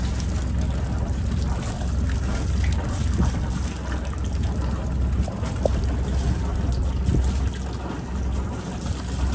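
A boat's engine is put into gear while manoeuvring on a December crossing from Gosport to Cowes. A continuous loud low rumble runs with wind and water noise throughout.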